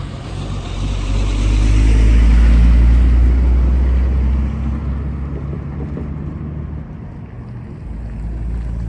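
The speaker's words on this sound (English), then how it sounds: "We're gonna wait for this truck." A truck rumbles past outdoors with a loud, low roar that swells to a peak and slowly fades, with wind noise and a dog nearby; no talk.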